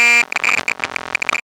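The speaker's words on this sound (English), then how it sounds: "this is the original sound I used for the crash." A harsh, choppy synthetic crash sound effect, stuttering and glitchy with bright tonal bleeps and abrupt cut-offs, ending suddenly in silence.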